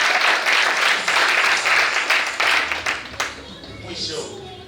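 Crowd applause at a church ceremony where an archbishop of the EAGT church is named a peace ambassador, dense clapping under talk, thinning out toward the end.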